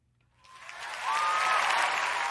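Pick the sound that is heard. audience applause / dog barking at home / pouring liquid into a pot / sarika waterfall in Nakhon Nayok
audience applause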